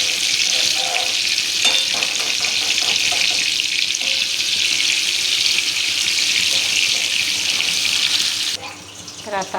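Ridge gourd pakoras in thin gram-flour batter deep-frying in oil make a dense, loud, continuous bubbling hiss that eases off sharply near the end.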